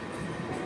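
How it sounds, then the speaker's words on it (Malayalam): A train rolls into Chikkaballapur station with a steady, dense rumble of wheels and carriages, close and continuous throughout. "ട്രെയിൻ ഇതാ ചിക്കബെല്ലാപൂർ സ്റ്റേഷനിലേക്ക് എത്തുകയാണ്"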